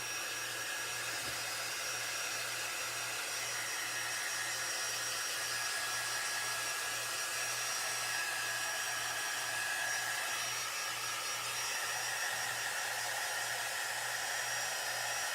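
A hair dryer runs steadily and fairly loud throughout, drying a scrap-wood Santa craft piece, a continuous even whir with no talking over it.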